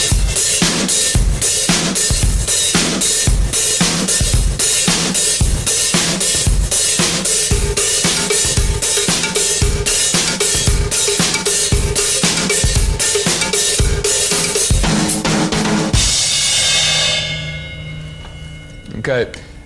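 A drum kit plays a steady groove, the hands moving back and forth between hi-hat and snare while a cowbell is struck on top, evenly repeating hits for about sixteen seconds before the kit rings out and fades.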